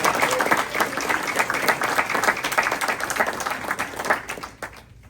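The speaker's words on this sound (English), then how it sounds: "Give him a round of applause" An audience at a talk gives a round of applause, a lively burst of many hands clapping close and strong, then thinning and fading out near the end.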